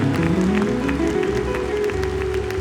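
A congregation at a Thursday church testimony meeting claps loudly and steadily throughout, a full crowd of hands with a tonal hum of voices or music running beneath.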